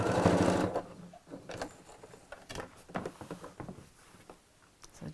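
A sewing machine tacks the handles onto either side of a three-pocket bag, a loud burst of rapid stitching at the start followed by quieter, intermittent mechanical clicks and fabric handling close by.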